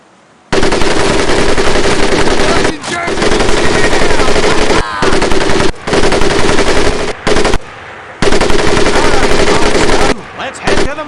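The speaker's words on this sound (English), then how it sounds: "The other will fire the weapon." Long machine-gun bursts from Medal of Honor: Pacific Assault boot camp firing range, loud and close, in several sustained volleys separated by brief pauses, with faint shouting mixed in.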